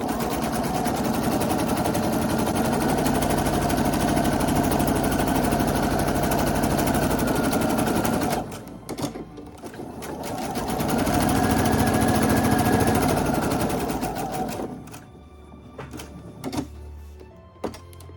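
Electronic sewing machine stitching a tote bag, running steadily for about eight seconds, pausing briefly while the fabric is turned, then sewing again before stopping, with a few light clicks at the end.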